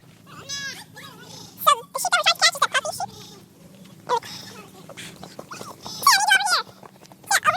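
A farm dog working sheep during a shearing round-up gives several short, high, whining yips and cries in uneven bursts, close by, with people talking in between.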